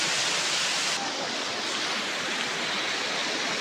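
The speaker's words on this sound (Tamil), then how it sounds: "ஃபால்ஸ் பாருங்க, இதுதான் ஃபால்ஸு, எங்கள் ஊர் ஃபால்ஸ்." A waterfall rushes in a steady, loud, broadband roar from close by, filling the whole stretch without a break and with no voices over it.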